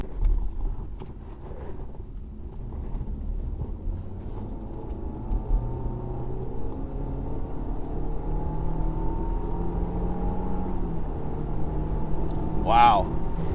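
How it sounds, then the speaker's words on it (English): A 2013 Audi Allroad Quattro accelerating onto a freeway, its engine note climbing in a steady, rising drone with road and wind noise close by, while someone talks over it throughout. "Wow, the motor pulls awesome."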